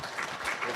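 Brief applause from an audience welcoming Tom as he takes the stage, a short, even wash of clapping at moderate level.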